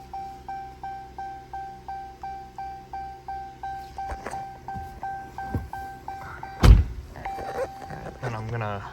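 Key-on fuel pump priming in a 2018 Dodge Challenger Hellcat: a rhythmic series of regular pulsing whirs with chimes, followed by a loud thunk, then further mechanical clicks and a short buzz.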